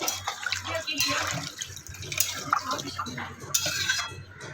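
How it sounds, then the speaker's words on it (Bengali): Water poured into a pan for Rui fish curry, a splashing and trickling pour with light clinks of utensils, heard close and fairly quiet, with a person speaking over it. "তারপর আমি দিয়ে দেবো প্রয়োজন মতো জল"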